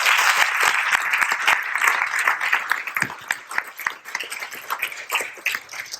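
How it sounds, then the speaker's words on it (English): A ceremony audience applauds the staff at a veterans rededication event, a sustained wash of many hands clapping at steady volume that gradually thins toward the end. "if we could give that whole staff a big round of applause"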